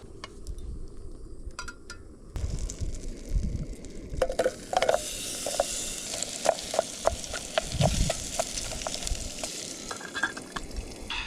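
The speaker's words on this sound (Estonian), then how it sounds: "Nüüd pole midagi, või sisse ja sibulad praadima." Onions fry in butter in a pan over a campfire in a freezing winter forest at night. A steady sizzle rises a couple of seconds in, dotted with crackling pops from the fire.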